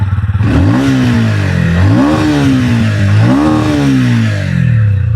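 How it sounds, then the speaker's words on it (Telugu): A 2026 TVS Ronin motorcycle engine catches and revs hard three times in quick succession, the pitch sweeping up and falling back each time, loud and close. "ఒకసారి ఇంజిన్ ఆన్ చేద్దాం, ఎగ్జాస్ట్ నోట్ ఎలా ఉందో చూద్దాం"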